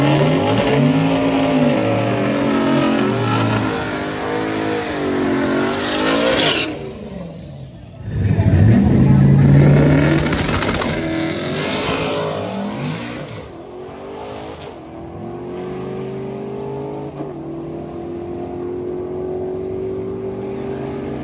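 Twin-turbo 331 stick shift drag car, a True Street 8-second car, roaring loud and close as its engine revs up through rising gear pulls, then a sharp shift and continued hard acceleration.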